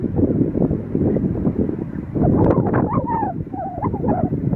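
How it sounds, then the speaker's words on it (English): Strong wind blows outdoors with a fire burning about 2.5 miles to the south, a steady low roar of gusting air buffeting the microphone, building in the second half with some faint tonal whistling. "the wind has now shifted and it's coming straight at me"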